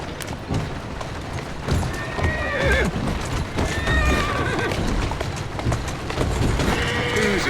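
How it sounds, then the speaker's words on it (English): A horse in Assassin's Creed Syndicate, set in Victorian London, whinnies repeatedly over a busy clatter of hooves on hard street, loud and near, with brief speech mixed in. "Who's a good horse? You are."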